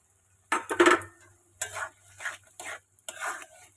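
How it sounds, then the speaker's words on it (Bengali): Chicken with soy sauce, tomato and chilli sauces and whole garlic cloves stirred in a pan, several distinct spatula scraping strokes against metal separated by short pauses, over a faint low sizzle. "একটু নাড়তে থাকবো"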